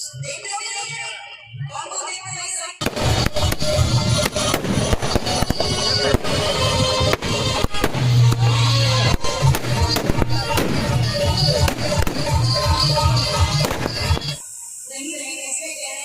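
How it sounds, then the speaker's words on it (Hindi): Fireworks bursting at an Ambedkar Jayanti celebration at a city chowk, a dense run of loud crackling pops and bangs that follows a voice speaking, then cuts back to his talk near the end. "आप देखिए शानदार आतिशबाजी बाबा साहब के जन्मदिन के पक्ष में।"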